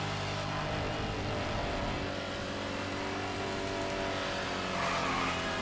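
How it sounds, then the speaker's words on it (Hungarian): An oncoming car races past in the Need for Speed Hot Pursuit video game, a steady engine roar with road noise that swells slightly near the end, with no one speaking. "Na, egy szembejövő autó."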